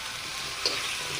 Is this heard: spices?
yes